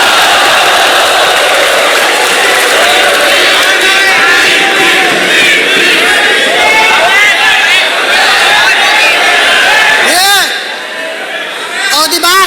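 Live crowd at a FlipTop rap battle roaring with cheers and shouting, a dense, loud wall of hollering voices that swells and fades near the end.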